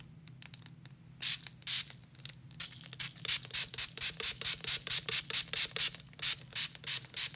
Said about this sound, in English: I'm just spraying a ton of water on there.